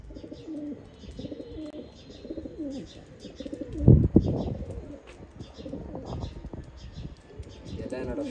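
Pigeons coo in short repeated phrases, with chirps behind them, near a loft of fancy racing pigeons. Someone talks throughout, and a louder thump or flap comes at about the midpoint.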